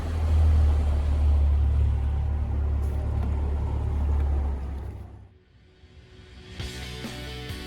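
A Mercury 150 hp outboard motor on a boat on a lake throttles down during break-in: a loud, low engine rumble with water rush fades to a quieter idle, then some splashing and hull noise.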